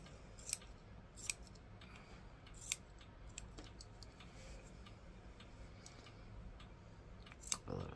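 Scissors trim crochet yarn for a cup carrier tassel, giving a few sharp, close snips spaced irregularly over a quiet room-tone background.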